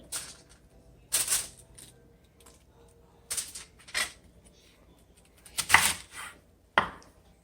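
Knife chopping cabbage into triangular wedges on a board for a grilled cookout side, heard as several separate crisp cuts spaced out over a few seconds, fairly close with quiet pauses between.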